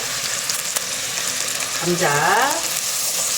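Butter and potatoes fry in a pan for a homemade curry, a steady close sizzle that fills the clip, with a voice briefly talking over it partway through.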